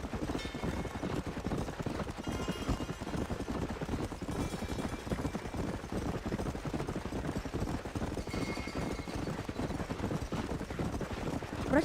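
Horse hooves clip-clop in a steady walking rhythm in Red Dead Redemption on PS5, with the horse being ridden up near a house, continuous and fairly close over a dense game soundscape, with faint other noises.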